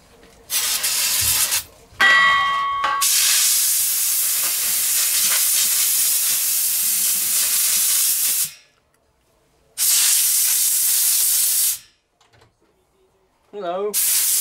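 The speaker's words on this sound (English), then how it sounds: "We'll clean it out with a little bit of carb spray." Aerosol carburetor cleaner hisses in long, loud bursts of several seconds each, separated by silence, sprayed into a vintage Echo strimmer close up.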